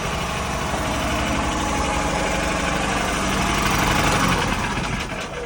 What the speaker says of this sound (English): The old Harbor Freight engine in a sailboat.